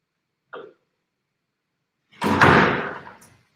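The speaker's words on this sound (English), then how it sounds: "Let me shut the door." An indoor door is pushed shut with a single solid slam and a short resonant decay, preceded by a brief faint click, in an otherwise quiet room.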